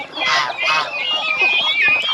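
Chickens and a rooster on a Philippine countryside smallholding call steadily and fairly close, overlapping honking, cackling cries without talk.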